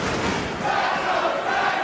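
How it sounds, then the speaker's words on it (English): At a Ring of Honor wrestling match, Bryan Danielson versus Roderick Strong, an arena crowd roars and chants in unison to rally Danielson. It is a dense, loud wall of voices echoing through the building. "Listen to the crowd. Trying to inspire Bryan Danielson, shouting, "Let's go Dragon.""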